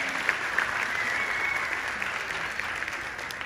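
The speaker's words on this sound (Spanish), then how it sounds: "Fuerte el aplauso para todas ellas." Sustained applause from a comedy show audience in Mexicali, a dense steady wash of many hands clapping with no voices over it.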